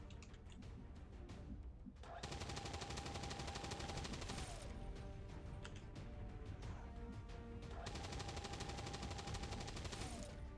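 Continuous suppressive machine gun fire in XCOM 2, two long rattling bursts separated by a short pause, steady and loud with no talking.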